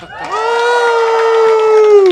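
An audience at a university AI innovation challenge kickoff lets out a loud, sustained whooping cheer that rises quickly and holds for about two seconds.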